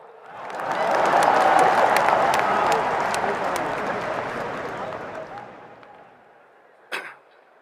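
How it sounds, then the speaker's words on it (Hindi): Crowd applause at an Indian political rally swells quickly and holds loud for several seconds, then fades out, ending with one sharp knock. "ठोको ताली।"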